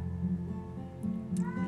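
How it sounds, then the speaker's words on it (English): Kittens meowing during an indoor cuddle session with a cat, a few short mewing cries over a low background hum, close and moderately loud. "Look at these beautiful kittens."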